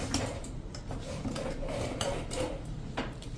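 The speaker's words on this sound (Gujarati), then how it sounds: "હવે આપણે રીંગ લગાવી અને કુકરનું ઢાંકણું બંધ કરી દેશું" Metal scraping and light clinks as the rubber ring is fitted and the lid closed on a steel pressure cooker of khichdi, a steady run of close, small rubbing and ticking sounds.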